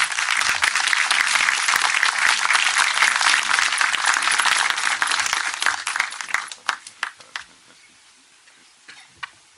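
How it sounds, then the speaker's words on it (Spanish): Audience applause welcoming a director onto the stage at an evening event, a loud sustained round of clapping that thins out into a few scattered, isolated claps and fades. "Y la recibamos con un aplauso."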